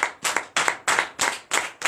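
A congregation claps in a steady rhythm at a night church service of deliverance and prophecy, about six firm beats in just under two seconds, heard close and clear without talk.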